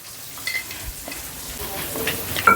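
Chutney stirred and frying in a pan in a cloud kitchen, a soft continuous sizzle with scraping stir strokes and a few louder clatters near the end.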